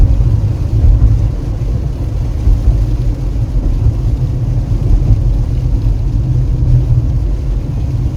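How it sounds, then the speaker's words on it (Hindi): Heavy rain pours down in a steady, dense, low rumbling roar that stays loud and even throughout, with no voices. "इतना झमाझम पानी गिर रहा है ना"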